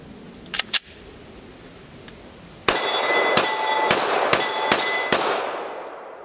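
A magazine dropping out of an FNX-45 Tactical pistol fitted with a Trijicon SRO optic gives a couple of sharp metallic clicks, then a run of loud, evenly spaced clanks, close and clear with no voice.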